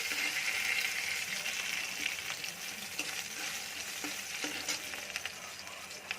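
Nigella seeds and chopped onion with a pinch of salt sizzle steadily in hot oil, a bright continuous crackle with occasional stirring scrapes and no talk.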